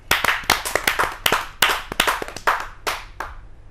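A poetry gathering audience claps together in a short, energetic burst of applause. The sharp hand claps land in an uneven rhythm, sound close and loud, and fade out over the last moments.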